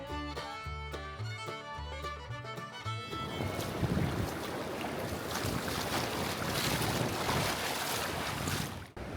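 Arabian Sea waves wash in steadily on a Thrissur beach in the monsoon season, with wind noise, a broad rushing roar after a few seconds of music.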